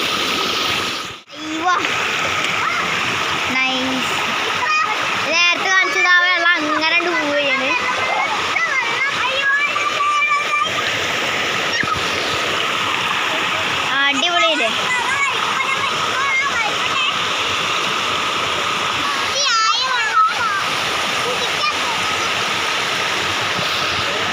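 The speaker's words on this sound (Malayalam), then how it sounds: "അപ്പോഴൊക്കെ വെള്ളം പോകുന്നുണ്ട്" Water rushes and splashes steadily nearby after heavy rain. Voices talk loudly over the flow for much of the time.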